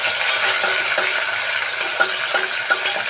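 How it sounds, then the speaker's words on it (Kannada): Small chopped tomato sautéing with spices in a pan for village-style donne biryani, a steady sizzle with scraping stirs and a few light clinks of a utensil, close and fairly loud, no voices. "ಒಂದು ಸಣ್ಣದಾದಂಥ ಟೊಮೊಟೊ ತೊಗೊಂಡು ಚಿಕ್ಕದಾಗಿ ಕಟ್ ಮಾಡಿಕೊಂಡು ಮನೇಲಿ ಬಾಡಿಸ್ಕೊತಿದ್ದೀನಿ"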